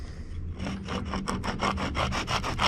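Steady back-and-forth sanding strokes with a sanding block removing glue from a piano keytop, about a dozen rhythmic rasping passes, close and fairly loud with no talking.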